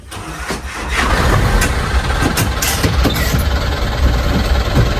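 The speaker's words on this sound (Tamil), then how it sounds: "இன்ஜின் சவுண்டே பக்காவாக இருக்குங்க" A school van's diesel engine cranks briefly, catches within about a second, then settles into a loud, close, steady idle with a rough low throb.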